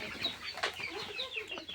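Country chickens cluck in a small 10 by 10 poultry shed where hens sit on eggs, short close clucks repeating over a quiet background with no talking.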